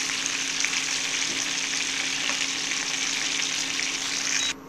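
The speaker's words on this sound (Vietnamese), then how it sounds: "Đùi gà mình chiên sơ vậy là được rồi" Chicken thighs briefly fry in oil in a pan with a steady, close hiss and sizzle that stays even throughout and drops off sharply at the end.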